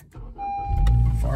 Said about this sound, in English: Got the push button for the start, clutch in.